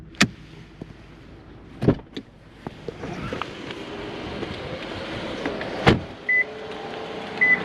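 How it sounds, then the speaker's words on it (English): Power windows on a 2006 Lexus LS430 run down and up automatically: a sharp click, a smooth electric motor hum as the glass travels, then further clicks as each window stops, heard close inside the car. "All the windows, auto down, auto up. There they go."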